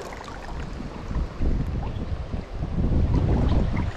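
Wind gusts and buffets the microphone beside a river in the Catskills, with a low, rumbling roar that swells and eases, likely mixed with the rush of moving water.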